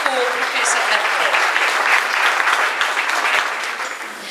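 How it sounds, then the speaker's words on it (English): An audience at a donor pitch event applauds Professor Atmore with steady, full clapping throughout and a few voices faintly mixed in. "A big round of applause for Professor Atmore."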